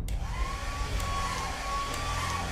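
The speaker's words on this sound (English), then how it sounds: "Someone has a wireless hairdryer." A steady, loud whirring blower like a hair dryer in the video game Lethal Company, a constant airy drone with a faint rising whine running through it.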